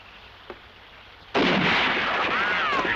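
A loud gunshot-like blast in a 1975 adventure film cuts in abruptly after quiet background, followed by a sustained roaring wash of sound.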